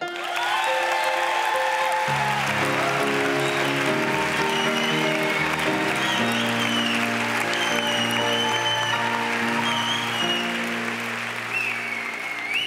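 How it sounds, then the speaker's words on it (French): Big theatre audience applause welcoming the director at the opening show of the Séries Mania festival, a loud sustained wave of clapping beneath swelling music that begins a couple of seconds in. "merci de faire un tonnerre d'applaudissements à la grande, géniale, brillante Laurence Herzberg"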